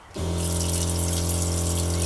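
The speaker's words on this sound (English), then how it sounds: "I'm gonna wash my hands because I hate the feeling of lotion on them" Water gushing steadily from a tap into a sink for hand washing inside a van, a loud continuous rush that starts abruptly after a brief quiet moment.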